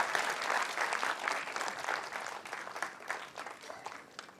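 Enthusiastic audience applause at an Atomy India felicitation event, dense and sustained clapping from a large crowd throughout, fairly loud and steady with slight swells, no voices standing out.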